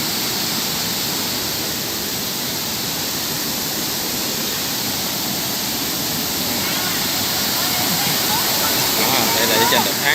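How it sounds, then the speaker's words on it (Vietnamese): Da Han waterfall in Dong Nai province, heard from the top of the falls, roars as a loud, steady, broadband wash of falling water that fills the whole stretch without pause. "Đây là trên đỉnh thác các bạn."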